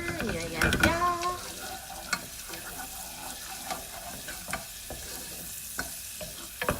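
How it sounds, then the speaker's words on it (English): Butter sizzles in a frying pan with tofu as it is stirred, a burst of scraping and spattering up front that settles into a quieter, steady crackle with occasional clicks of the utensil. "We are going to put in the butter."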